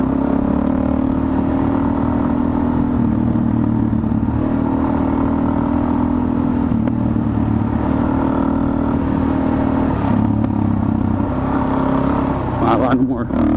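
Suzuki DRZ400S dirt bike ridden through muddy, sandy forest trail, its single-cylinder engine droning steadily and close throughout, with clatter near the end and the rider's voice talking over it.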